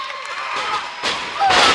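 Wrestling kicks landing in the ring during an opening match of the Neo Wrestling Federation, heard as a few loud slapping thuds over a cheering crowd, with a commentator talking throughout.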